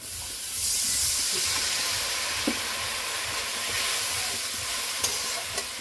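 Frying masala with chilli powder for ghugni bursts into a loud steamy hiss as a little water goes in, then sizzles on steadily with a few stirring clicks. No one speaks.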